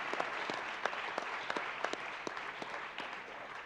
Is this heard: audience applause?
yes